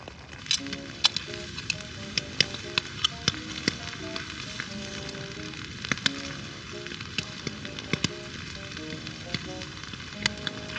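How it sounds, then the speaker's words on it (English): Steady dense patter of rain at a campsite, with scattered sharper drops tapping nearby against a constant hiss, no voices. "It's raining quite a bit."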